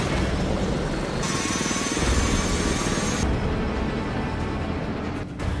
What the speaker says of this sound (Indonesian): helikopter yang akan mendarat untuk menjemput mereka tiba-tiba ditembak jatuh roket